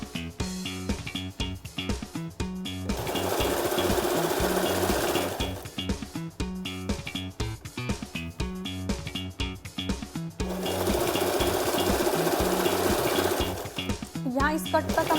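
A sewing machine stitches the seam of a Patiala salwar, its needle chattering in a fast, steady rhythm that runs in two long, loud bursts with short pauses between them.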